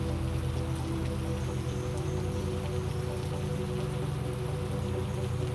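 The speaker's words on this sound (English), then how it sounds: "Only the falling rain seems to ignore all of that." Falling rain makes a steady, continuous soft hiss over a low hum, even and unbroken throughout, with no voices.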